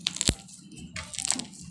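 Crunchy slime squeezed by hand gives a few faint, close crackly crunches, one sharp snap early, then a softer run of crackles, with nothing else heard.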